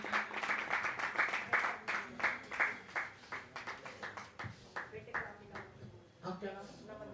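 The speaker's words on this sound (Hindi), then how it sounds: "एक बार जोरदार तालियां" A gathering at a Jain temple ceremony breaking into applause, clapping that starts dense and strong and then thins into separate, rhythmic claps, with voices talking underneath.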